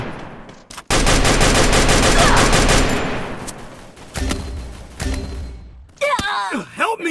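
Rapid automatic gunfire in the Free Fire battle royale game, a loud sustained burst of closely spaced shots followed by a few shorter volleys, then a voice groaning at the end.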